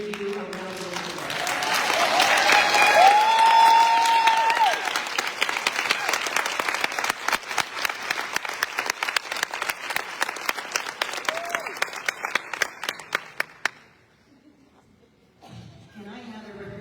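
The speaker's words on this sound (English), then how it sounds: "please stand so we can give you a round of applause" Applause at the opening session of a Florida ALA convention as unit members stand to be recognized: a swelling crowd ovation that thins into scattered claps before stopping, followed by a faint voice.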